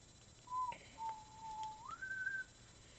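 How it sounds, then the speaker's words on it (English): A person whistles a short, faint tune indoors, a few sliding pitched notes with brief pauses between, and no talk is heard over it. "Please stop whistling."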